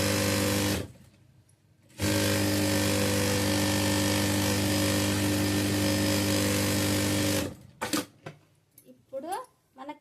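An electric sewing machine stitches the side seam of a frock nighty in two loud, steady whirring runs, a short one and then a long sustained burst, followed by a quiet pause and a few soft handling noises at the end.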